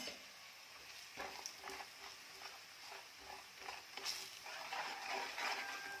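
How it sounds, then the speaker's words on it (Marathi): Kolhapuri onion garlic masala sizzles and fries in hot oil in a pan, a steady crackling hiss with occasional stirring scrapes, moderately loud and close with no talking. "मसाला घालून तेलात छान परतून घ्यायचं."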